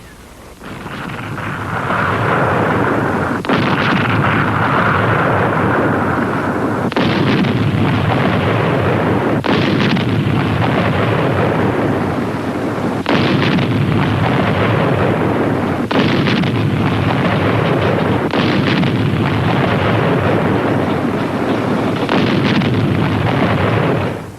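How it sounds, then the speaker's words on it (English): Heavy siege guns of the German forces shelling Leningrad, a continuous loud barrage of booming artillery blasts with repeated sharp impacts and rumbling, no talk over it. "The siege guns stayed."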